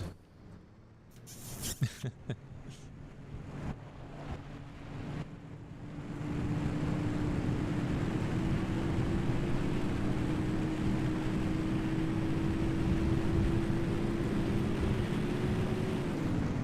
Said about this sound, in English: Oh, that engine sounds good.